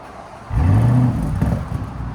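A 2026 Audi RSQ8 with a 4.0-litre twin-turbo V8 and a deleted mid resonator fires up about half a second in, settling into a loud, deep, steady drone close by, with no talk.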